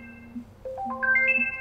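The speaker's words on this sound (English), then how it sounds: "So that's what it sounds like when it's trying to find the phone." A phone rings with the Wyze Band app's find-my-phone alert, a short electronic tune of clear tones stepping upward in pitch after a lower held note, crisp and close with no voices.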